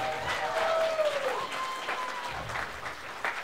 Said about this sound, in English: Everybody give her a big round of applause.